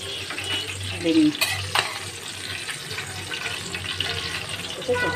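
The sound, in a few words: fish frying in oil in a pan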